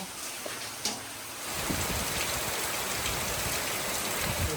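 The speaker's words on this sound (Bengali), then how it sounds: "আজকে প্রচুর জোরে বৃষ্টি হচ্ছে, সেই যে সকাল থেকে শুরু হয়েছে, একটুও থামেনি" Heavy monsoon rain pours down in a steady, dense hiss that swells louder after a quieter start and holds constant throughout, with no voices.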